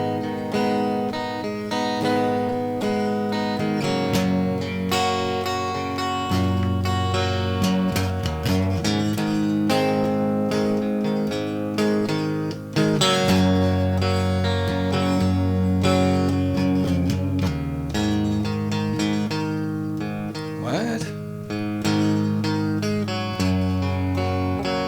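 A guitar riff from a tab book is played exactly as written, a dense continuous run of notes and chords that stays loud and busy for about twenty-five seconds with no talking.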